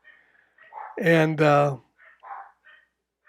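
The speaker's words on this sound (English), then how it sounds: "pardon my dogs, they're barking like maniacs." Pet dogs bark loudly in two close, sharp bursts, with a voice talking faintly before and after.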